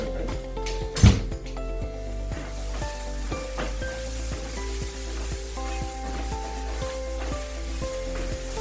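Whole spices such as cloves, fennel seed and poppy seed being sautéed in a pan for a Kerala pork curry: a continuous close sizzle with one loud knock early on and repeated light utensil scrapes throughout.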